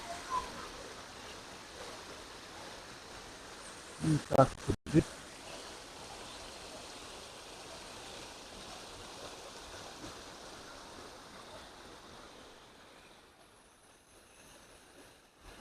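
Steady broadband rush of flowing river water fills the scene, with a few short spoken words and brief clatters near the start.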